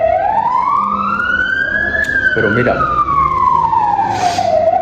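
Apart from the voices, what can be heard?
ambulance siren passing by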